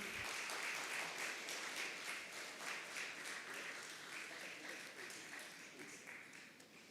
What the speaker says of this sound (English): A round of applause for Mr. Mathur.